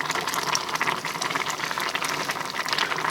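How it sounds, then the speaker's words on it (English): Garlic canned corn simmers in a pot, giving a steady close bubbling and hissing texture with fine crackling pops throughout, no talking. "Now, let me turn this to a simmer."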